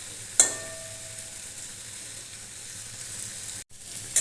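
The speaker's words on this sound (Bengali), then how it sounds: "আলুগুলো আমি ভালো করে ভেজে নেব।" Boiled potatoes fry in a pan with a steady close sizzle; a sharp clink opens it, the sizzle cuts out briefly near the end, then another light clatter.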